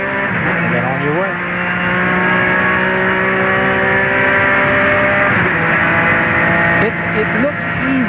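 A Porsche race car engine howls steadily at close range, dipping briefly as the driver lifts off and then climbing back on power through a chicane, with a voice talking over it.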